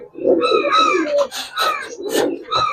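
Old-bloodline pigeons coo and flutter close by in a loft, a few soft bird calls mixed with rustling and brief wing sounds, with no clear speech over them.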